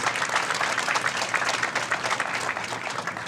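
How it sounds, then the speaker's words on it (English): An audience breaks into sustained applause at a healthcare foundation presentation, dense steady clapping filling the room at an even, loud level throughout. "So, yes, applause."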